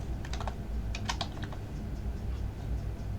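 Computer keyboard keys clatter as code is typed for Web3.js smart contract compilation, in two quick bursts of clicks over a steady low room hum.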